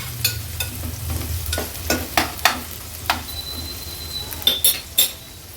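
Chopped onion frying in oil on a medium gas flame in a pan, a soft steady sizzle punctuated by repeated sharp clinks and scrapes of a spoon stirring against the metal, close and alone.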